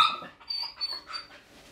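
A dog gives a few short whimpering yips and a soft bark in a quiet room.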